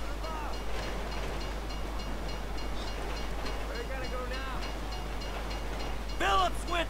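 A train rumbles past in the video game Grand Theft Auto V, a steady low churn of wheels and cars with faint game voices and sounds over it.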